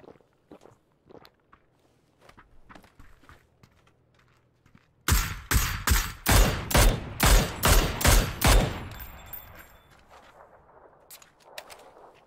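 Gunfire in the PUBG battle royale shooter, a sudden rapid burst of loud repeated shots in a tight rhythm after quieter footsteps and small taps, then fading back to soft movement sounds.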